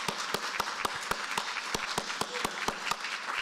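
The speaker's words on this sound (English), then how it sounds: "Can we get a round of applause for the enforcers?" Scattered, sparse audience applause at a convention theatre, with distinct individual claps ringing out over a soft crowd bed, fairly distant and brief.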